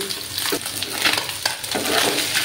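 Tangra fish fry in hot oil in a pan, giving a steady loud sizzle broken by a few stirring scrapes, with no voices.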